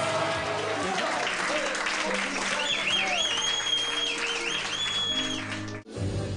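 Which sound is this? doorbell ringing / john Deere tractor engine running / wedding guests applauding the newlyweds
wedding guests applauding the newlyweds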